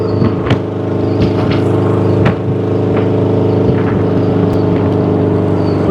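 Engine of a 1976 VW-framed dune buggy with a Berry T body, which has a misfire and low power, running steadily while driving, a loud continuous drone with some uneven pulsing throughout.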